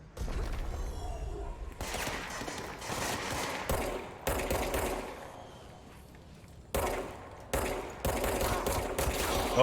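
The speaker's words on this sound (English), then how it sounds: "Oh, that's a grenade." Gunfire in the video game Control comes in loud bursts of rapid shots that repeat in separate volleys. The booms of a grenade blast are mixed in, and there are short pauses between the bursts.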